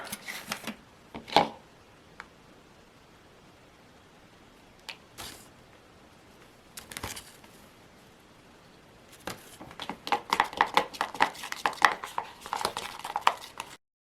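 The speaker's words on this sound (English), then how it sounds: "Mixing liquid latex and flour." Liquid latex and flour are stirred into a thick paste in a container, heard as scattered taps and scrapes. These turn into a dense run of rapid clicking, knocking strokes near the end, close and alone.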